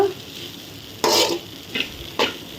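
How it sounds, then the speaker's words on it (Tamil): Masala being stirred into poha upma in a pan over a low flame, heard as three scraping, sizzling bursts of spoon against pan separated by short pauses with a faint background hiss, close and fairly loud. "சிம்மில் வச்சு எல்லா இடமும் மசாலா வர்ற மாதிரி மிக்ஸ் பண்ணிவிங்க"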